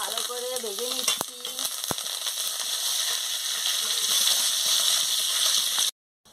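Dried red chilies frying in hot oil for a mixed-vegetable dal, a steady close sizzle and crackle with a few stirring knocks early on, running continuously before cutting off abruptly near the end.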